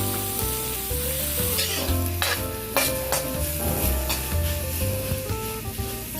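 Spices and aromatics sautéing in a pan at home: steady sizzling with scraping stir strokes, close and continuous, over a faint background hum of music.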